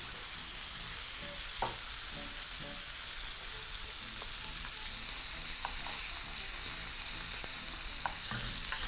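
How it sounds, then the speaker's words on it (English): Bacon-wrapped beef sears in a hot pan with a steady, loud sizzle throughout, broken by scraping clicks and knocks as the pieces are turned and the pan is tilted. "hold your pan to an angle, allow the juices to drain to one side of your pan, and proceed to turn until you've got a nice, beautiful, even coloring all around"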